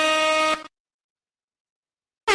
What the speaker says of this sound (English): Where's that air horn at? Is there an air horn I can?